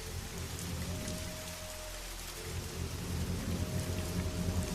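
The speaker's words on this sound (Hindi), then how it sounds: "ये बारिश तो रुकने का नाम ही नहीं ले रही" Heavy rain pours down at night in a village setting: a dense, constant hiss of drops on surfaces with low thunder rumbling underneath, growing slightly louder toward the end.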